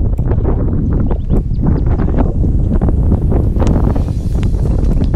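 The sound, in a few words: strong wind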